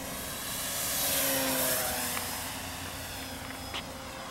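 A Dynam AT-6 Texan radio-controlled model airplane on its maiden flight makes a droning propeller whine that swells as it passes overhead, then fades and shifts pitch as it flies on, with no voices.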